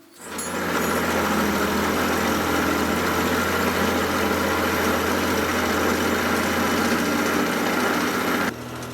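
Face mill on a milling machine cutting a rough-edged metal plate, a loud steady whining drone with a dense gritty texture that holds evenly for about eight seconds before dropping away near the end.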